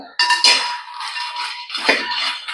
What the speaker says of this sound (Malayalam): അപ്പോൾ നമുക്കിതിലേക്ക് മക്കാന ഇട്ട് കൊടുക്കണം ഇത് കുറച്ചുള്ളൂ അപ്പോൾ ഞാൻ ഒന്നിച്ചങ്ങ് ഇടുവാണേ